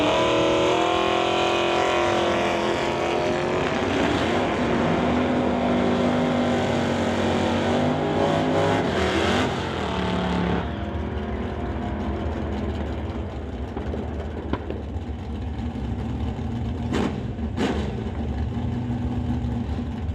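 1995 GMC drag race car at a drag racing event, a loud, rough engine roar with a rising, harmonic-rich tone for about ten seconds, then fading into a lower distant rumble with a few sharp bangs.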